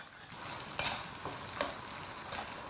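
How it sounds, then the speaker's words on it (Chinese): Ginger, scallion, garlic and dried chilies stir-fry in red oil in a wok, a soft steady sizzle broken by a few sharp scraping stirs, heard alone at low volume. "另起锅来一点红油，下姜葱、蒜、干辣椒和干花椒"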